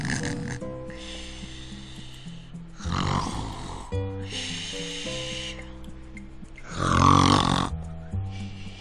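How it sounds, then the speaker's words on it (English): A cartoon character snores loudly and slowly in the Dora the Explorer: Fairytale Adventure PC game, two big rasping snores over a bouncy musical backing. "He's snoring louder than ever."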